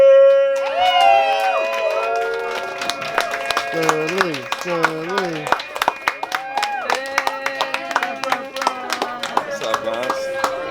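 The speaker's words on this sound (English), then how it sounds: "Get a big round of applause for Sterling!" Crowd cheering and clapping at a live event rise after a host calls out a name, with scattered shouts and applause bursts continuing throughout while people talk and yell over it.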